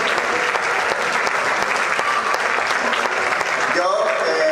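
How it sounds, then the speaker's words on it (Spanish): An audience at a craft beer presentation in Villena applauds steadily, a thick wash of clapping from a sizable crowd with a few sharper claps standing out and some voices mixed in near the end. "Les pido un aplauso por ahora"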